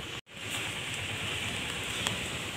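Outdoors, steady rain falls as a continuous, even hiss, briefly cutting out near the start, then carrying on unbroken at moderate loudness.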